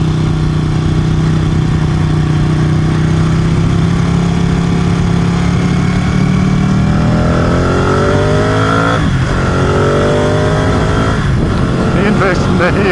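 A Ducati motorcycle engine and exhaust run loudly and close, holding a steady drone before revving up and pulling away in rising, changing tones while a voice talks over it.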